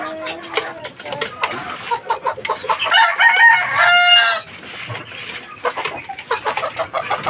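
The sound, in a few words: fighting roosters crowing and clucking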